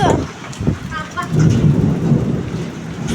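Thunderstorm with heavy rain and falling hailstones: a loud, continuous rushing patter of precipitation with deep rolling rumbles of thunder close by, no one speaking.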